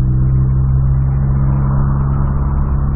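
Modified Volkswagen Polo with a rear spoiler, its engine humming loudly and steadily up close in a constant deep drone throughout, with no talk.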